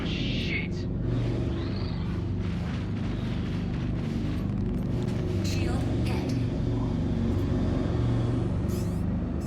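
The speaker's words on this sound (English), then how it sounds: "Shield hit." A ship's shield taking hits in Star Citizen ship-to-ship combat, with a heavy continuous rumble and muffled booming impacts under a steady engine drone, and a voice talking.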